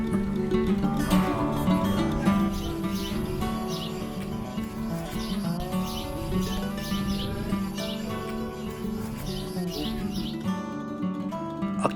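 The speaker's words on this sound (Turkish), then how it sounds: "Kuş sesleri arasında." Birds chirp and tweet in short repeated bursts over a dense, steady background of music or ambient noise, during a mountain bike ride in 44-degree sun on the Keşan plain in Turkey.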